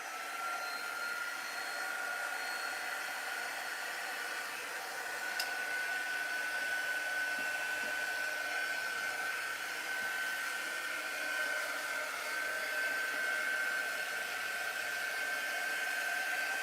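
A hair dryer blows steadily and continuously up close with a constant whooshing hum and a faint high whine, used to quick-dry spots on a slightly tacky 18-inch craft board.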